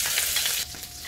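Ingredients are stir-fried in a wok until fragrant, giving a brief burst of loud, hissing sizzle with a quick scraping toss partway through.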